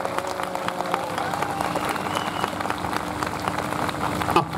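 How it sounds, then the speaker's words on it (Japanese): A crowd applauding continuously at a talk show and live event, dense clapping that sounds like rain, with a few voices mixed in. "大きな拍手お願いします。"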